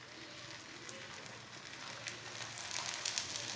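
Methi paratha laid on a hot tawa greased with oil gives a soft, steady sizzle with scattered tiny pops that grow a little busier toward the end, quiet and with no talking.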